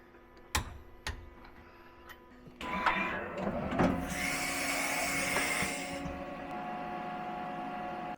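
A Haas CNC milling machine runs a part program, opening with a few sharp clicks before a steady loud whir and hiss of cutting and coolant spray settles in and continues.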